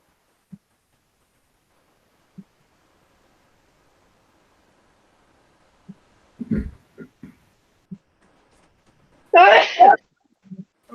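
A single sharp sneeze rings out near the end of a library trustees meeting, after mostly quiet moments broken by a few faint clicks and brief murmurs.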